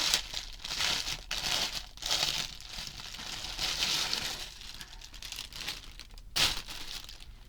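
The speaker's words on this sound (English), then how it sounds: "let me unwrap it first." Crinkly plastic wrapping is pulled and crumpled as a package is opened, close, continuous rustling with louder crackling bursts and a short tear, no talk.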